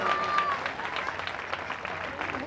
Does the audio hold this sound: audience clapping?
yes